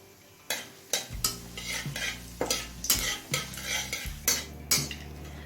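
Bay leaves, whole cumin and dried chilli sizzle in hot mustard oil while a spoon stirs and scrapes the pan in repeated rhythmic strokes, close and steady with no voices.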